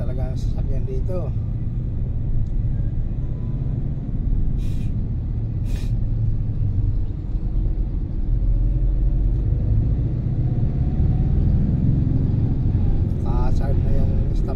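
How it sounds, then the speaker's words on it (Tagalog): Heavy road traffic near ABS-CBN Timog, with cars and other vehicles passing: a steady, loud engine and tyre rumble with occasional brake hisses, continuous throughout. "Grabe talaga ang sasakyan dito."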